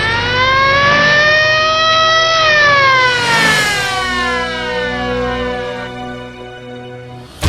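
A wailing siren with rising and falling pitch sweeps loudly and steadily close by, in a cartoon-style arrest scene with a police car; no talking over it.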